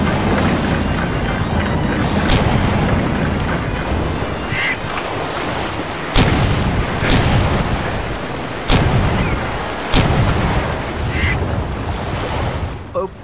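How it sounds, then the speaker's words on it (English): Deep booming pirate ship cannon shots in Pirate Doom go off every few seconds over a loud, rumbling battle din, with distant crackling in between. "let's try a different cannon"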